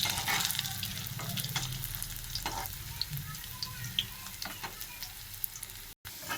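Potato peel pakoras fry in hot oil with a constant crackling sizzle, dotted with small pops and ticks and a few stirring scrapes, heard close and fairly quiet, with a short break near the end.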